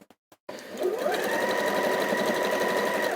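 A domestic sewing machine stitches a triangle of fabric into the V point of a patchwork star, starting after a few brief clicks and then running as a steady, close, continuous whir to the end.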